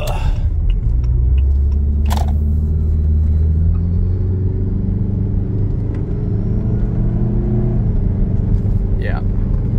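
A car with a quarter-million-mile transmission climbs a big hill, its engine droning in a steady low rumble that rises slightly under load, close and loud, while people talk briefly.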